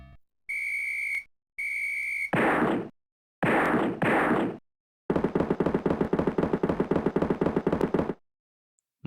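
Gunfire in a Carmen Sandiego video game, with two beeping alarm tones, a couple of heavy blasts, then a rapid machine-gun-like burst of loud repeated shots ending abruptly.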